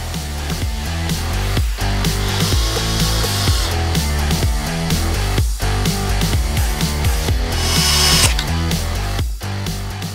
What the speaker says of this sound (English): And we'll reinstall the T15 screws.